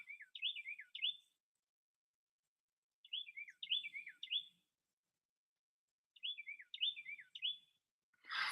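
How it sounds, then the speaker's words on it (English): Short chirping bird songs sound outdoors beside a big field edged with trees, three bursts of rapid warbling phrases separated by silence, fairly faint and distant, with a brief rustling noise at the end. "Hear the birds talking to me."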